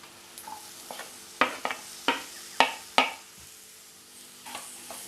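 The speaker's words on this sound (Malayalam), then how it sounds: "ജസ്റ്റ് ഇളക്കി കൊടുക്കാം." A spoon stirring cauliflower and chopped capsicum in a frying pan for gobi manchurian, several distinct scraping clacks against the pan over a faint low sizzle, close and without speech.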